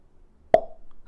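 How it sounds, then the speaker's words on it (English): A single sharp pop as a finger is pulled out from between closed lips, close and clear, followed by a faint resonant ring and quiet room noise. "close your lips around it, and then you pop your finger out like this."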